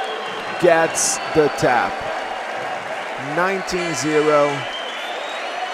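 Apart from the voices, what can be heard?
crowd applauding a jiu-jitsu submission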